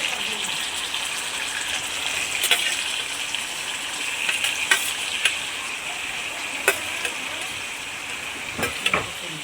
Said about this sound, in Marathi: आधी फोडणी देत आहे